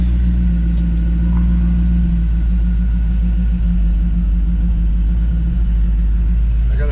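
A 1931 Essex Challenger Coupe engine idles in a loud, close, steady low rumble throughout, with a faint voice briefly under the running engine.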